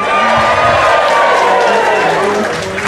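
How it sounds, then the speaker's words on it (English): A crowd of wedding guests cheers together in a loud, sustained burst of voices and whoops at an outdoor reception at Taronga Zoo, filling the whole moment before easing slightly at the end. "I want to hear a cheer as if you're cheering for Sarah and Greg"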